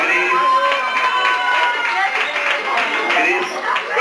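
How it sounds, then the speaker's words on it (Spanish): A crowd at an adult comedy show in a bar claps and cheers steadily, with voices shouting and calling out throughout. "El aplauso fuerte para Gris."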